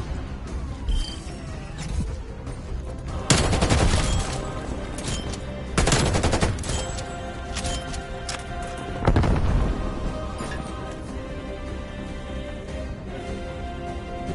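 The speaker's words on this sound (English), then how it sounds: "incoming artillery." Heavy artillery fire in a video game booms in three loud, broad blasts about three seconds apart, each rolling out over a steady background of distant gunfire and rumble.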